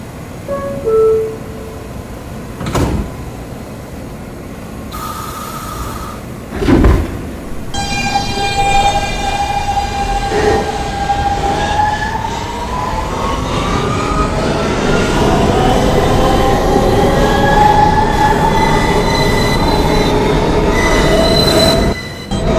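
An express subway train pulls out of the platform, a few loud knocks and clanks followed by rising, sustained metallic wheel squeals that grow louder as it gathers speed.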